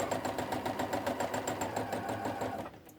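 A sewing machine stitches steadily while machine-embroidering a rose through water-soluble stabilizer, its rapid rhythmic clatter running continuously before slowing and fading out near the end.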